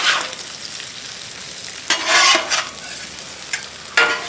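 Eggs sizzle steadily on a seasoned flat-top griddle, with bursts of louder frying and spatula scrapes breaking through around the middle and near the end.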